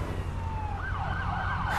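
Ambulance siren in the Driver San Francisco game on PS3, a wavering wailing tone that rises and falls continuously over a low rumble of traffic and engine.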